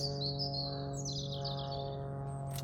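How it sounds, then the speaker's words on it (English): A thrush chirps and calls in short, fairly faint bursts outdoors in Dyke Village, heard over a steady low engine hum from a Toyota Prius, with no talking. "I think that's a thrush, isn't it?"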